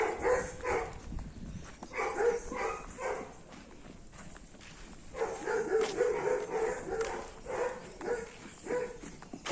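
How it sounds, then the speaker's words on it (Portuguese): Dogs on a rural property barking repeatedly in bursts, a few animals yapping at moderate distance with short pauses between volleys, fairly faint overall. "Olha por que os cachorros estão latindo."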